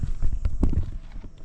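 Cattle hooves clopping in a quick, uneven rhythm close by, fairly loud, with faint background noise and no talk.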